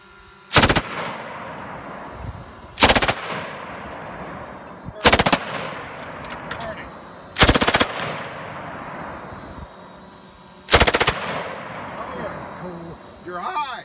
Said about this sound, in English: Pull the bottom trigger.